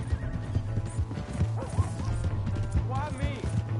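A horse whinnies repeatedly with clip-clopping hooves and a crash in the Red Dead Redemption 2 video game, close and loud, with in-game voices talking over it.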